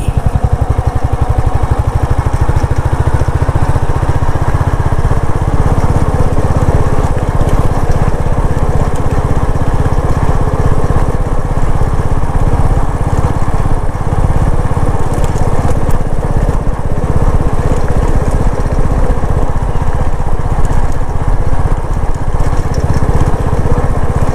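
A motorcycle engine drones loudly and steadily throughout, a continuous buzzing rumble as the bike rides through forest, with no breaks or talking.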